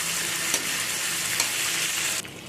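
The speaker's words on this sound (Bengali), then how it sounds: "দিয়ে সবজিটা আবারও ভালো করে নাড়াচাড়া করে ভেজে নেব" Jackfruit curry vegetables fry with a cumin and chilli paste, giving a close, steady sizzle broken by a couple of brief stirring scrapes before it settles quieter at the end.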